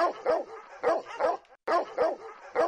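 A dog barks repeatedly in close, loud bursts, paired yips coming in a steady rhythm with a short pause midway.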